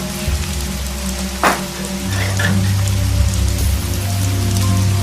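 Rain falls steadily in a miniature-cooking horror drama scene, a continuous pattering hiss with a brief sharper splash near the start and a low hum beneath.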